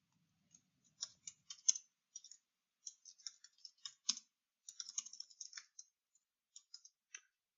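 Quiet, close typing on a computer keyboard comes in quick irregular bursts of light clicks with short pauses between runs of keystrokes.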